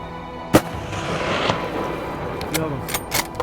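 A single sharp rifle shot from a mountain goat hunt in the Yukon mountains, loud and close, followed by a lingering echo, with quiet voices and rustling afterward.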